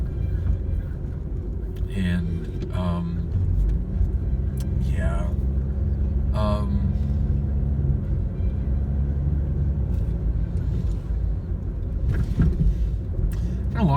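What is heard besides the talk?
car driving along a back road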